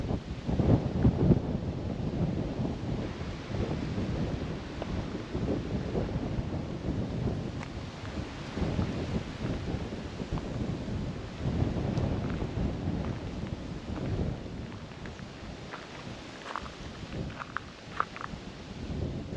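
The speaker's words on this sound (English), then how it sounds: "It's a bit windy up here" Strong wind rumbles and thumps across an exposed mountain-range lookout in Queensland, Australia, loud, close, rough gusts that ease slightly near the end.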